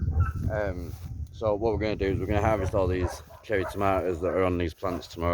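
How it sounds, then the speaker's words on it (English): Dogs bark and whine excitedly at feeding time in the background of a vegetable garden while someone talks over them at length. "Really sorry about the dogs, it's feeding time."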